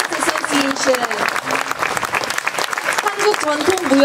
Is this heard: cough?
no